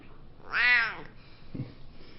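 A single drawn-out meow from a spotty cat, fairly soft and close, followed by a brief dull bump and quiet room tone.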